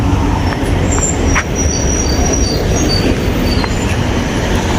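Loud, steady rumble of a train moving through Zurich railway station in Switzerland, near a tunnel, with rail noise and brief metallic squeals over the continuous roar.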